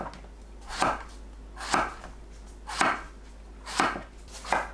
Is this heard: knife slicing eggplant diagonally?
yes